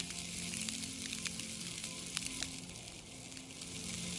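Shrimp sizzle steadily on a hot Blackstone griddle, a constant close crackling hiss with small pops and no talking.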